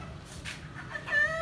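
A chicken clucks close by in a yard in Lahore, short throaty calls that rise into a louder drawn-out squawk at the end over faint outdoor background.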